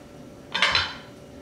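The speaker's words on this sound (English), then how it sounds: "I'll mix it around." A spoon briefly clatters and scrapes against a pot of beef stew with peas, a short burst of metallic clinks lasting under half a second before falling quiet.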